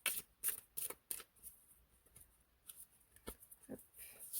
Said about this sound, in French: on va tirer 2 cartes aujourd'hui.